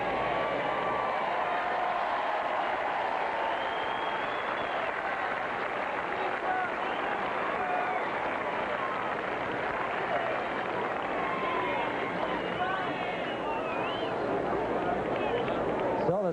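A sellout crowd at the 1991 US Open in New York applauds Jimmy Connors on his 39th birthday, a sustained wash of clapping and crowd noise with talk over it throughout.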